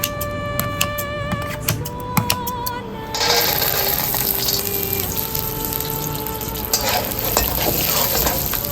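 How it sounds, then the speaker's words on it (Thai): Food frying in a pan over medium heat, a few clinks and knocks at first, then a sudden, steady sizzle that carries on loudly with light stirring. "ทอดหัวไปก่อนนะครับ"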